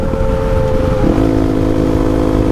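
A motorcycle fitted with a new aftermarket exhaust riding under a bridge, its loud engine note holding steady and then shifting as the revs change, close and continuous, with no talking.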